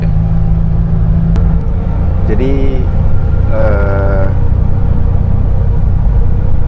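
Mtrans Patria sleeper bus engine, rumbling low and steady from inside the cabin while riding between Cikarang and Kediri, with brief tonal whines and someone speaking over it.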